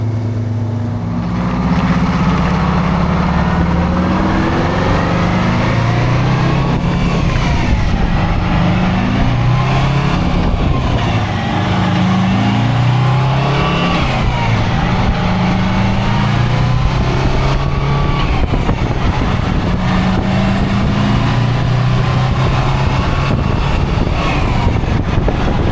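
A 1972 Peterbilt truck's big diesel engine idles and revs while driving, a loud steady drone with rising and falling revs and rattling from the rough ride, with no talk over it.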